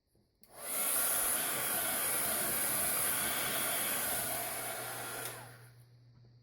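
A heat tool blows steadily during glycerin embossing in a mixed media project, a broad hiss running about five seconds at an even, close volume, then cutting off, with no talking.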